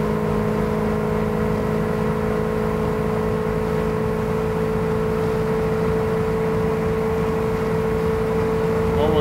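The engine of a 1992 Winnebago Elante 37RQ motorhome drones steadily while climbing a hill at highway speed, with a sustained whine inside the cab.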